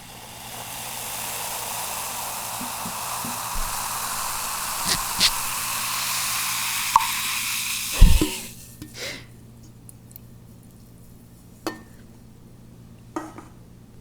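A canned carbonated drink hisses and fizzes in a large glass, a dense steady crackle lasting about eight seconds, then a clink and fading quiet with occasional small taps.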